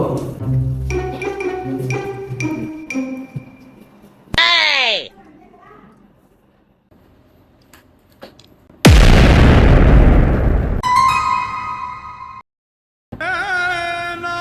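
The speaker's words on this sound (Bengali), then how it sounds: "বম দিয়া উড়াই দিন" A bomb explosion effect in a comedic domestic skit roars in loud and broadband after a stretch of speech and cartoonish whooshing sounds, sustaining a heavy rumble for several seconds before cutting off into tonal effects.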